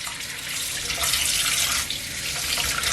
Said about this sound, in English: So what I would like to do is fill this up with some water,